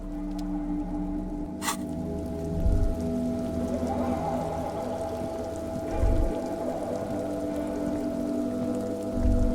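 Steady rain patters through a gloomy outdoor scene in the Disco Elysium video game, a soft continuous wash with low musical drones and occasional dull thumps beneath it.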